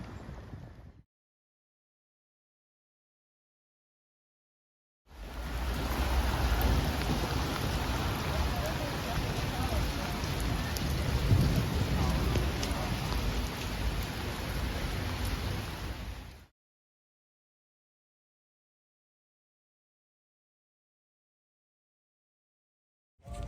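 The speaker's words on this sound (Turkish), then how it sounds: "Evet, yağmur başladı." Steady rain pours down in a continuous hiss for about ten seconds over an outdoor street market in Sweden, framed by silence before and after.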